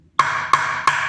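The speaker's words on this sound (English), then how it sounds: "on the rim of the drum. And that sound is going to be our snare drum sound." Three sharp rim taps on a plastic bucket drum, evenly spaced and close, each a bright cracking hit standing in for a snare drum, with nothing else sounding.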